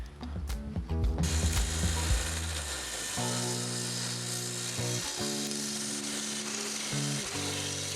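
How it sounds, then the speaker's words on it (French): A power saw with its blade tilted a few degrees rips along black locust battens, a loud sustained tonal whine with harsh cutting noise at first, then a steady motor hum with short dips and restarts. "on va recouper les côtés de tous ces tasseaux en inclinant la lame de quelques degrés"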